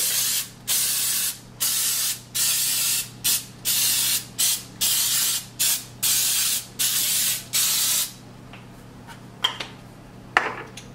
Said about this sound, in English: we are going to spray our muffin pan with the Pam baking spray